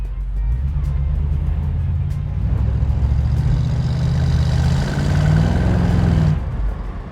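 A 1968 Ford Mustang pulls away, its steady low engine rumble building as it moves off, close and continuous with no talking.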